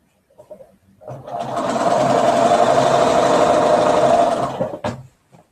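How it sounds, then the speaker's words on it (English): A sewing machine stitches quilt pieces together in one steady, close run of about four seconds, ramping up and then stopping sharply. Light handling rustles come just before and after the stitching. "I sew it to the bottom piece on the other one."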